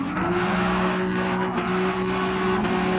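An engine-swapped front-wheel-drive car with about 350 horsepower is driven in Gran Turismo 7, giving a steady, loud engine drone with brief tyre-squeal hints. It runs close and continuous with no talking.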